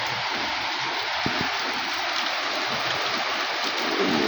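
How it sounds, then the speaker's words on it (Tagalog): Steady rain falling outside a home, a dense even hiss of drops on surfaces with no pauses, moderately loud and continuous throughout. "Umuulan na sa labas."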